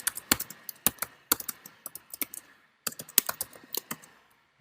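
Keys clatter on a computer keyboard in quick, irregular bursts of crisp clicks, close and alone, with a short pause midway before the typing resumes.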